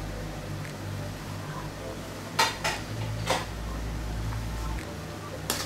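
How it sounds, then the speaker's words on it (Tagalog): Okra pieces dropped into a pot of simmering salmon sinigang, giving a few sharp clinks and clatters of pot and utensil over a low steady hum of cooking. "Next ko pong ilalagay yung ating okra."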